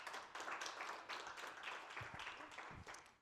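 A studio audience applauds as guests Héloïse and Romain are welcomed onto a French television show set: dense, steady clapping fills the whole stretch at close range, with a few lower thumps near the end.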